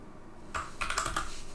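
A computer keyboard clacks in a quick burst of several rapid keystrokes and clicks, close and clear against a quiet room hum, with no talking.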